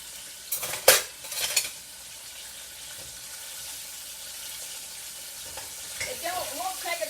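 Crappie fish frying in a pan on a stovetop burner, a steady soft sizzle under a few sharp utensil clatters and scraping at the start, with bubbling crackle picking up toward the end.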